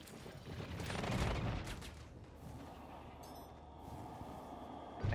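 Gunfire in the space game Star Citizen, a faint, muffled barrage of shots and rumbling blasts blended into a steady wash of game noise.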